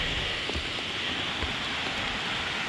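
Steady rain falling outdoors near a lake, an even dense hiss with a few sharper drop taps, continuous and fairly close.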